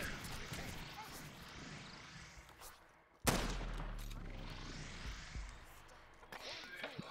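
A few BB weapon shots crack out in a Block N Load match, a quieter stretch of combat noise broken by a sharp loud burst midway and continued firing afterward, with game sounds throughout.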